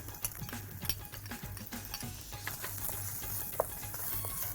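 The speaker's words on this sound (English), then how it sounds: "Saute the onions till cooked, don't make it brown." Finely chopped onions sauté in a pan for a paneer capsicum masala, giving a steady low sizzle with frequent stirring scrapes and light clatter, close and continuous throughout.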